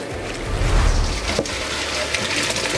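Tap water pours steadily over freshly cooked pasta in a drainer, a close, continuous splashing rush with a brief clatter midway and no talking.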